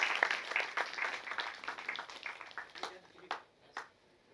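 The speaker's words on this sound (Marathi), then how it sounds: "त्यांचं जोरदार टाळ्या वाजवून आपण स्वागत करूया" An audience at a school literary event claps to welcome a student, a dense burst of applause that gradually thins out and fades into a few scattered claps.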